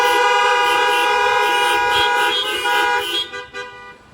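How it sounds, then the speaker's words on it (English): A car horn blares loudly in one long sustained honk, then breaks into a few shorter toots before stopping. "let us just honk our horn"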